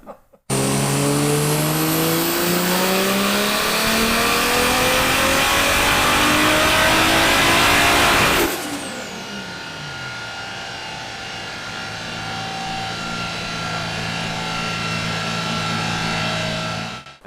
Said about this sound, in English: And that's a backfire.